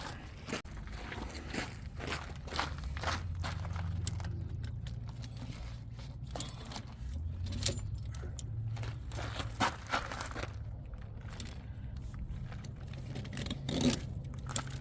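Snow chains being tightened onto a semi truck tire, giving close metallic clinks, rattles and scraping crunches in an irregular stream of short bursts, with no talking.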